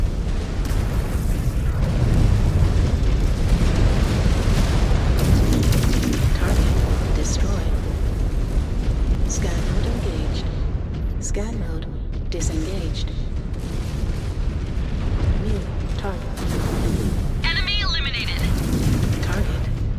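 Mechwarrior 5: Clans combat with a mech going critical and blowing up, loud continuous booms and explosions layered over dense gunfire, missile impacts and machinery rumble, with a synthetic cockpit voice calling out alerts throughout.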